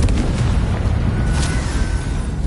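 A fiery Confringo spell blast in the video game Hogwarts Legacy, a dense, loud booming rumble that holds steady for the whole stretch, with no voices over it.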